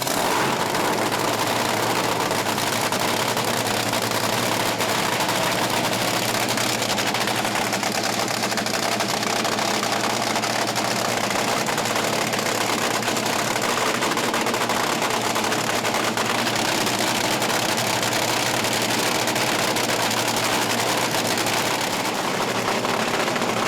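Top Fuel dragster engines rated at 9,000 horsepower run nonstop at a drag strip, a loud, dense, sustained roar with rapid crackling pulses that stays steady throughout, with no voices.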